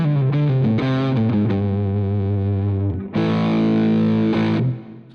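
Electric guitar played through a Joyo Vintage Overdrive pedal with the drive turned up gives a warm, rounded distorted tone, loud and close, with a strummed phrase, a brief pause, then a sustained chord.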